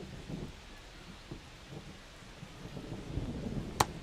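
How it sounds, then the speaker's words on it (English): Rain in a baseball simulation video game makes a steady, soft hiss throughout, with one sharp click near the end. "This rain is not letting up."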